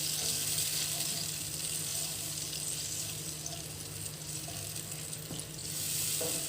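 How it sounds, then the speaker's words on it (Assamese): Tomatoes simmer in a pan with turmeric and salt for a sour Assamese curry, giving a soft, continuous sizzle and bubbling at low volume with no talking. "এতিয়া মই বিলাহীখিনি উতলিবলৈ দিছোঁ।"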